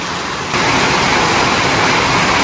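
Heavy rain pouring steadily outdoors, a loud dense broadband roar that jumps up in intensity after the first half second and stays constant, with no voices.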